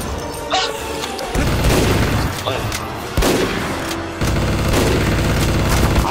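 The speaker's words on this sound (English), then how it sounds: "Stop shooting me!" Rapid gunfire and booming explosions in Garry's Mod, loud and dense with bursts crowding one another, while shouted voices break in over the shooting.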